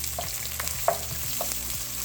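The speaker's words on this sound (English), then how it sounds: "After about a minute, you stir that around" Ginger and lemongrass fry in a pan, a light sizzle under soft scrapes and clicks of stirring, with a sharper clatter midway and a faint tonal hum underneath.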